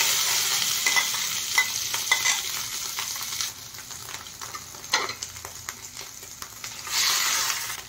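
Boiled potatoes are stirred in a hot pan with cumin and a piece of ginger, giving a steady sizzle with scraping stirs. A louder sizzle swells near the end, and no one speaks.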